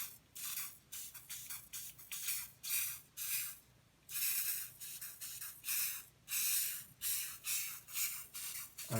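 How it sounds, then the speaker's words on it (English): A spray can with a faulty nozzle lets out a series of short, uneven hissing bursts, roughly a dozen, separated by brief gaps. It sounds fairly faint and close, with no talking. "Why is this not spraying properly? The nozzle is acting weird."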